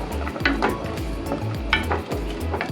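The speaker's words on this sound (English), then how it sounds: "Mix this butter in." Butter being stirred into a slow-cooked chicken and vegetable soup, with close, loud, repeated spoon strokes and clinks against the pot in a quick rhythm, no voices.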